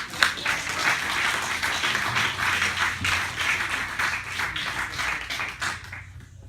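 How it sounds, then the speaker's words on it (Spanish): Church congregation applauding after a sermon, a steady dense wash of many hands clapping for several seconds, fairly close and even, fading out at the end. "Denle ese fuerte aplauso al Señor"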